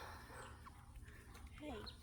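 Chickens in a backyard coop with two roosters and three hens, giving a few short faint clucks and chirps over low background noise.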